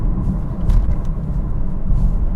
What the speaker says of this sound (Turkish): Motor sesi ve rüzgar sesi gelmiyor ancak birazcık lastik sesi alıyoruz.